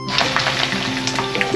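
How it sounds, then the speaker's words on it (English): Eggs frying in a pan for breakfast, a steady close sizzle with small crackling pops, heard alone. "Fried eggs for breakfast."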